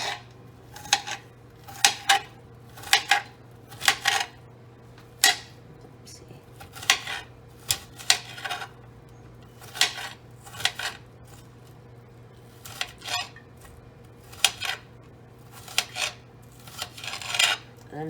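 A knife chops an onion on a cutting board with steady, evenly spaced crisp knocks about once a second, close and clear over a low kitchen hum.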